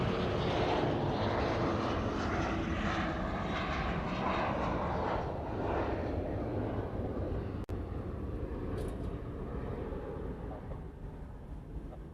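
Hawaiian Airlines airliner departing Honolulu airport, its loud, steady broadband jet engine roar filling the scene close by and slowly easing toward the end, with a brief click partway through.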